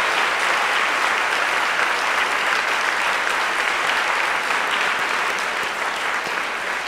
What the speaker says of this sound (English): Another round of applause for Jamie Geston.